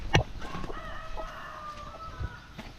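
A chicken on a farm gives a few short clucks and a brief crowing note near the coop where eggs are being checked, fairly close but soft, with no talk over it.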